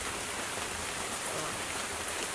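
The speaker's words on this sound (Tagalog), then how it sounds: "Ang lakas na naman ang ulan guys." Heavy rain pours onto slippery, muddy ground in a dense, constant hiss, loud and close, with no break or other sound.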